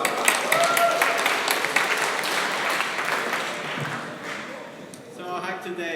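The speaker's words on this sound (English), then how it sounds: "give it a big round of applause for Mitro" A hackathon crowd at the HackCambridge final demos claps in a full round that slowly thins out, and a voice then starts talking near the end.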